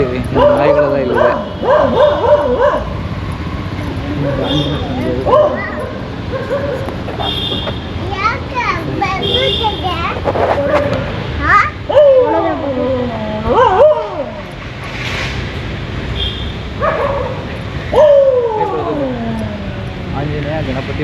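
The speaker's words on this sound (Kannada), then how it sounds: "ಕಾಲಭೈರೇಶ್ವರ ಟೆಂಪಲ್ ಆಗಿದ್ದರಿಂದ ಇಲ್ಲಿ ನಾಯಿಗಳೆಲ್ಲ ಇಲ್ಲಿದೆ" Several dogs at the Kadri Kalabhairava temple bark, yip and whimper in repeated close bursts across about twenty seconds, while people talk nearby and children play in the background.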